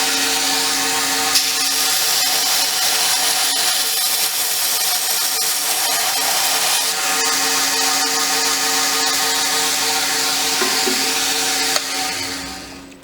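Knife blade ground on an 800 grit grinder in a custom knife maker's shop, giving a steady, loud abrasive whine for about twelve seconds before it tapers off.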